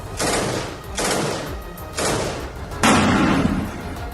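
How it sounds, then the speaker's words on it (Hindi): Four heavy bursts of gunfire during combat in Gaza, each a loud, dense roar of shots lasting close to a second, separated by short gaps, with the last burst the loudest. "पूरा इलाका धमाके और गोलियों की तड़तड़ाहट से गूंज उठा"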